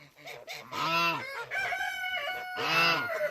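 A farmyard goose honks repeatedly at close range, loud nasal calls in several bursts with brief pauses in between.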